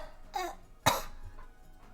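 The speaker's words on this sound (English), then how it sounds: "I still have a cough" A single person coughs once, with a fainter throat-clearing sound just before, close and moderately loud in a quiet room.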